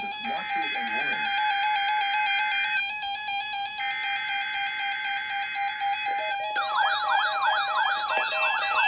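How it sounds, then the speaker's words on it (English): NOAA weather radio warning alarm on the WXL70 public warning system, a loud steady high tone held for several seconds, then a shift to a rapidly warbling, sweeping siren-like tone. "The warning alarm will be activated for hazardous watches and warnings"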